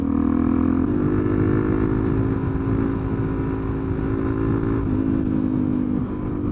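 A motorcycle ridden along a twisty country road, its engine droning loud and close in a steady tone that shifts pitch slightly as the throttle changes, with wind noise underneath.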